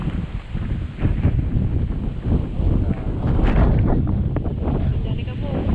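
Strong wind buffets the microphone continuously with a loud, rough roar that swells and gusts throughout, with no clear speech over it.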